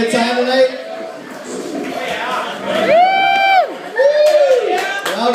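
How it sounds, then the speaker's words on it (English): A rowdy comedy club audience cheers and whoops, with loud crowd noise and a few sustained shouted calls rising above the din, with no pause in the noise. "Rowdy crowd, huh?"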